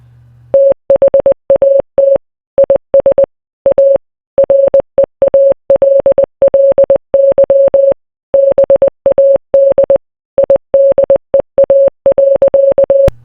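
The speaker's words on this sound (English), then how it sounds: "to give the talk using Morse code" Morse code tones: a single steady electronic beep keyed on and off in rapid dots and dashes, loud and clean, in grouped bursts with short silent gaps between.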